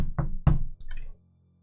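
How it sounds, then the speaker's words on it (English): Two or three soft knocks land on a door in quick succession, close and fairly quiet, followed by a brief muffled rustle and then silence. "It's like the quiet, don't want to disturb you too loud knock."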